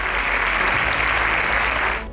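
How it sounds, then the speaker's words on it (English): Studio audience at a quiz show grand finale bursts into loud, sustained applause, a dense steady wash of clapping lasting about two seconds before cutting off. "A round of applause for all of that."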